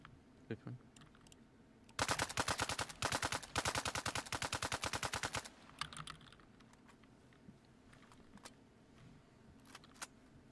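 Automatic gunfire in the Arma Reforger video game, with sharp rapid bursts of shots that repeat for a few seconds against quiet surroundings, then a few scattered clicks.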